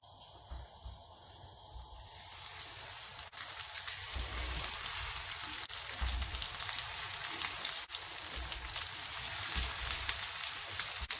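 Breaded chicken fries in oil for chicken parmesan, starting as a quiet hiss that swells after a couple of seconds into a steady, dense sizzle with a few scattered pops and clicks.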